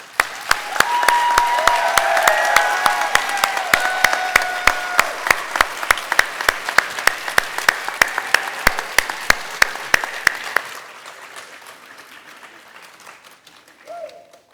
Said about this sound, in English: close our ceremony with a round of applause for our current inductees into the Honor Society